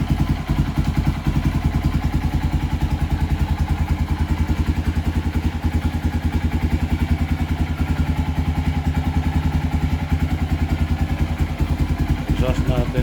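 A 2015 Honda XR150L single-cylinder motorcycle idles after a cold start, a loud, close, steady rapid thumping from the engine and exhaust with a faint mechanical tapping from the cam adjuster, running unbroken throughout.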